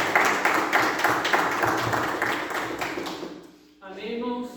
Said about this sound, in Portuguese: Vamos saudar Jesus com nossas palmas.